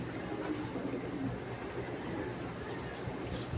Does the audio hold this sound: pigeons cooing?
yes